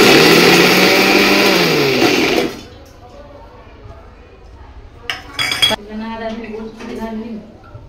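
Mixer grinder jar grinding masala, a loud whirring motor run that stops abruptly after about two seconds, followed by quiet clinks and scrapes of the jar and utensils, with a person talking briefly.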